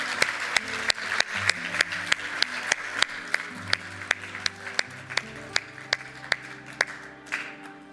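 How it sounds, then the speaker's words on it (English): Clapping at a horse racing awards ceremony honouring racehorse City of Troy, with sharp, regular claps close by standing out over softer scattered applause from the room, faint background music and murmuring underneath. "let's have another round of applause"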